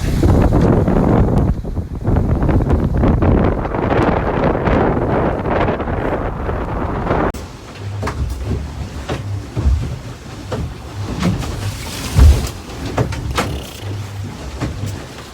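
Strong wind of about 25 knots roars and buffets the microphone aboard a small solo sailboat at sea, with hull slaps and knocks as the boat pounds through the waves, loud and continuous.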